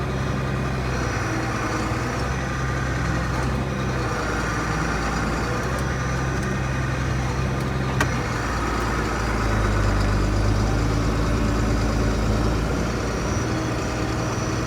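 A vehicle engine hums steadily while driving around a field picking rocks, with a low constant drone and cabin rumble that swells slightly near the end; nobody speaks.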